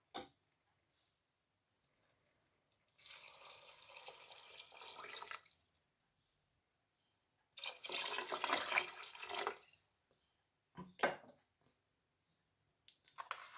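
Water pours into a pressure cooker holding rice for aloo pulao in two bursts, each a few seconds long and fairly close, with a brief splash after them and quiet gaps between.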